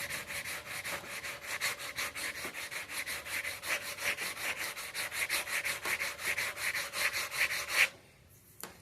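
A hand file rasps across forged metal at a blacksmith's bench in fast, even back-and-forth strokes, close and steady for about eight seconds before stopping abruptly.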